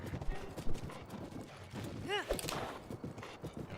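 Rhythmic clip-clop of a galloping horse in Zelda Breath of the Wild, hooves pounding steadily up close under game sounds, with someone talking over it.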